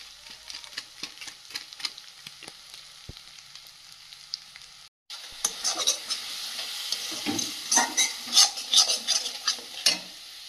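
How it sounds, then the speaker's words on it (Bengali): Spices with turmeric, red chilli and Kashmiri chilli powder fry and get stirred in a pan, a steady close sizzle with scraping strokes that briefly cuts out near the middle, then returns louder and busier. "দিয়ে মশলাটা বেশ ভালোভাবে কষিয়ে নেব।"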